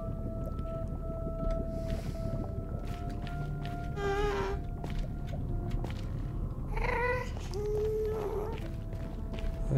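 Minecraft ghast cries in the Nether: eerie, wavering moans and squeals rising out of a dense, rumbling ambient drone, appearing in two or three bursts midway through the scene, with no speech.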